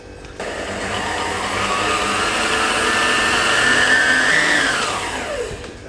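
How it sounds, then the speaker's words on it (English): An electric whisk beats pavlova mixture after vanilla extract is added, a steady close whirring drone that starts abruptly, holds evenly for several seconds with a slight rising pitch, then winds down, with no speech. "And that's in, and whisk until just combined."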